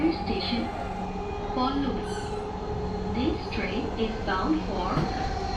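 A metro train in Bangladesh rumbles steadily along with a constant hum, high wheel squeals rising now and then, and voices chatter throughout a crowded carriage.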